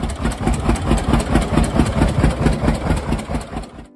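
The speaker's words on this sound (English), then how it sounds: "Number 8. The John Deere 60." A John Deere 60 two-cylinder row-crop tractor, built 1952 to 1956, runs at a loping idle, its engine beating in a close, even, pulsing rhythm before the sound cuts off abruptly near the end.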